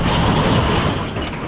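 Busy street traffic outside a taco stand, a loud continuous rumble of passing cars and heavier vehicles close by, with no pauses.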